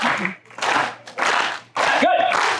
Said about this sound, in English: let's start off with a rhythmic clap